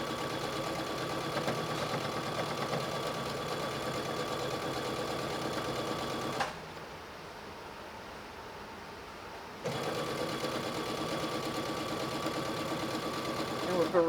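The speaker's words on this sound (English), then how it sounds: "Back stitch so it doesn't unravel or come undone." A sewing machine stitches a fabric scrunchie, its steady close motor whir pausing for a few seconds mid-run and then resuming for the back stitch.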